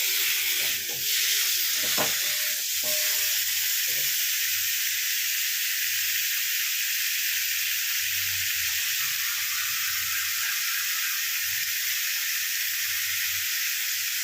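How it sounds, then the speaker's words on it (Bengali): Chicken stew ingredients fry in a pan over high heat, giving a steady, loud sizzling hiss throughout with a few clinks and stirring scrapes near the start. "এরকম হাই হাইটে ভেজে নেবো।"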